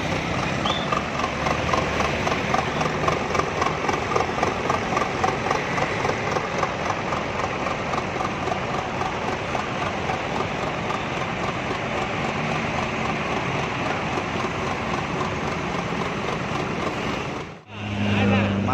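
A Yamaha R25 motorcycle fitted with a SWOS exhaust idles nearby with a steady, rumbling, pulsing engine note that continues throughout and drops out briefly near the end, with faint voices in the background.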